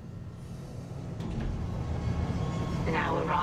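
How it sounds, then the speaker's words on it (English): A tram in the Dead Space Remake game arrives with a rising, rumbling rail roll that builds steadily in loudness, a short metallic clank near the middle and brighter screeching tones toward the end. "Now arriving at flight deck tram control"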